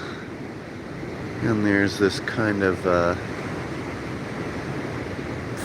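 Ocean surf and moving water at Pismo Beach, with tide running out past small cliffs and a sandbar: a steady broadband wash fills the whole stretch while someone talks briefly over it in the middle.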